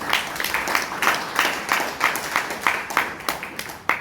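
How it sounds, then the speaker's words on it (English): Applause at a Bangalore Toastmasters meeting, a small room of listeners clapping with an uneven pulsing rhythm of distinct claps, fairly close and steady for several seconds. "let's give him a big round of applause"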